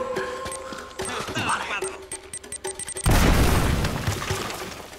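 Grenade explosion in Uncharted: Drake's Fortune Remastered on PS4, a loud booming blast that hits suddenly midway and rumbles away, following busy game sounds and clatter.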